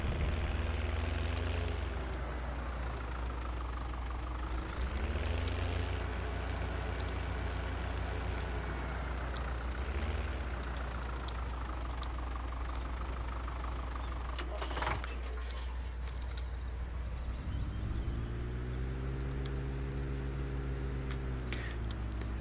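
A tractor in Farming Simulator 17 idles quietly in the background, a low steady engine hum whose pitch drifts up and down now and then.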